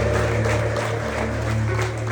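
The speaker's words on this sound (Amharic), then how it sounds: "እስኪ አጨብጭቡ ለጌታ ክብር" A church congregation claps together in praise, steady rhythmic hand claps that keep a regular beat and run through the whole passage at a fairly loud, even level.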